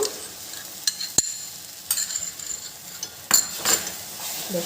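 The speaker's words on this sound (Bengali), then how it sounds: "এই যে এবার এই দুধটাকে ঢেলে দেব" Thickened, reduced milk goes into a hot pan for semolina naru: a soft, steady sizzle is broken by scattered sharp clinks and scrapes of a utensil on metal, with no talking.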